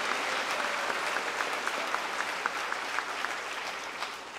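A church congregation claps steadily through a Sunday mass, a dense, continuous wash of applause that fills the space with no voices over it.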